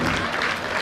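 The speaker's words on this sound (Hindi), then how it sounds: "जोरदार तालियां" Audience applause at a Hindi comedy poetry gathering, a brief burst of dense crowd clapping, loud and continuous throughout.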